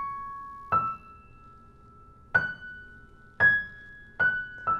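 A piano plays a slow legato melody without octave doubling, with five or six single notes struck at spaced intervals and each left to ring and fade, quiet and alone.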